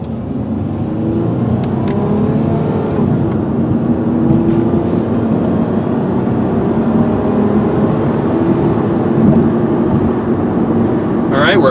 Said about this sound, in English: take off at a pretty hard acceleration pace so you guys can see how she runs